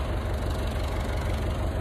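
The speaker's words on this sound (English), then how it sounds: "we've got Big Red on the old tractor" Old tractor fitted with a grass topper cutting deck, its engine running with a steady low knocking idle that stays loud and close, with no speech.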